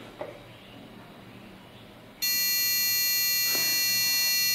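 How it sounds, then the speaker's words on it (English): A RadioLink F450 quadcopter gives a long, steady electronic confirmation beep on arming, starting midway and holding loud and unbroken to the end after a quiet stretch. "The long beep means the arm is successful"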